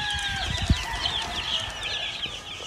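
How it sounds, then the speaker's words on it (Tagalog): Chickens on a gamefarm with more than 400 birds, a mix of clucks and busy calls from several fowl at once, moderately close with a brief louder note early on. "More than 400 chickens."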